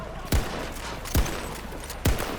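Three loud, evenly spaced gunshots ring out in the video game Battlefield 2042, each a sharp blast with a short decaying tail, with no talking over them.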